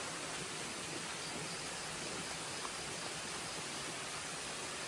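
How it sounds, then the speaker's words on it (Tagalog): A strong natural spring gushes in a rural Philippine setting after overnight rain loosened the ground, giving a steady, even rush of flowing water that stays constant and fairly close throughout. "Ay, ang lakas ng bukal, oh."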